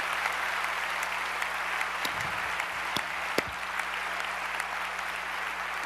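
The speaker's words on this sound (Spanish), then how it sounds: "Le va a dar un aplauso al Señor," A church congregation applauds during a sermon, steady sustained clapping filling the room at an even level, with a few sharper claps standing out.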